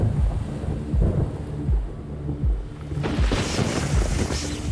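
Rumbling thunder from a lightning storm, several low booming rolls swelling and fading over steady rain and wind, with a louder, denser burst of rain noise in the second half.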